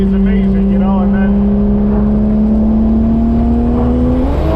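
A turbocharged 12-valve VR6 engine swapped into a B5 Audi A4 drones steadily under boost, its pitch climbing slowly as it pulls, heard loud from inside the car with a voice speaking over it.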